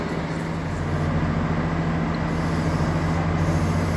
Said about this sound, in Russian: А это уже подъезжает под посадку мой поезд